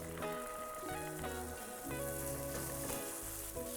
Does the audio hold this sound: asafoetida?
yes